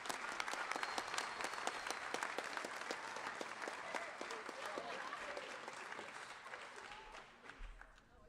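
Audience applause at a North Scott FFA agricultural program spring banquet, honoring the chapter officer team: dense, steady clapping from a crowded room that holds for about eight seconds before thinning slightly at the end.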